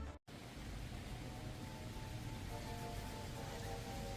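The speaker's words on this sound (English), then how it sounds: "These days, the rain has been falling more often" Rain falls steadily in Saigon on a wet Saturday, a constant soft hiss close by, broken only by a brief moment of silence near the start.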